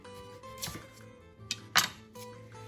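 A knife trimming both ends off an onion on a cutting board: a few sharp, separate chops and taps, close and fairly quiet, with a short pause between strikes.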